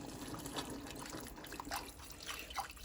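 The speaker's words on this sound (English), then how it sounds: "So just add little by little and continue whisking it." Chile sauce being whisked into chicken broth in a pot gives a steady wet, liquid swishing with soft splashy flurries, continuous and close throughout.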